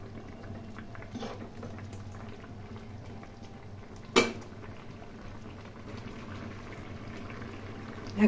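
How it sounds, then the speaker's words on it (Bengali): Bengali fish roe curry (khoira machher jhol) simmering on a gas flame, a soft, steady bubbling boil close by, broken by a sharp clack about midway and another near the end. "দু মিনিটের জন্য ফুটিয়ে গ্যাসের ফ্লেম বন্ধ করে দেবো।"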